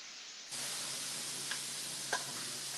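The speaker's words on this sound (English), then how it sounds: "We're gonna get a lot of sizzle going right now." Bacon frying in a pan, a steady broadband sizzle that starts abruptly as the strips go in and holds loud and continuous, with a couple of brief sharp pops and crackles.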